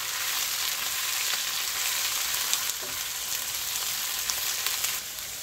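Chopped green chili stirred into masala frying in a pan for anda bhurji, giving a steady, close, even sizzle with faint scraping throughout and no voices.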